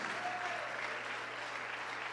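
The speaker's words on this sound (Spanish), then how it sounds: "Un aplauso fuerte al Señor Jesucristo" A church congregation claps loudly for the Lord Jesus Christ, an even wash of dense applause from many hands, alone and sustained, over a low steady hum.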